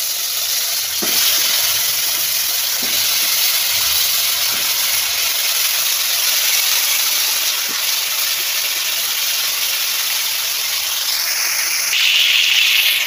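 Pointed gourd and potato hit hot oil in a pan for a fish curry, a loud steady hiss and sizzle running throughout with a few faint clinks, growing slightly brighter near the end, no voices.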